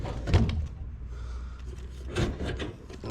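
Drawer of a new SGS tool box roll cabinet with an alignment fault, grating and rasping as it catches on the bottom while sliding, close by with scraping bursts at the start and end.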